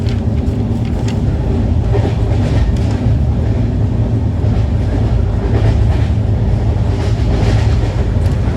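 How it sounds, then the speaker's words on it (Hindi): Brahmaputra Mail passenger train running at high speed after leaving Pandit Deen Dayal Upadhyaya Junction, heard from aboard as a loud, continuous rumble and rush with faint rhythmic wheel clatter throughout. "पंडित दीनदयाल उपाध्याय जंक्शन से डिपार्ट करते ही ट्रेन अच्छा पेस मेंटेन कर ली है।"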